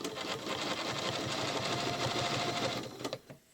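Sewing machine quilting a Baptist Fan curve along a ruler, a soft, steady, rapid stitching rattle that runs continuously before slowing and stopping with a few clicks.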